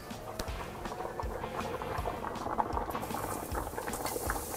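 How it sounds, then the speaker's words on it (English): A pot of water with spaghetti in it bubbles at a rolling boil, giving a close, steady patter of popping bubbles that continues without pause. "So now the pasta is boiling"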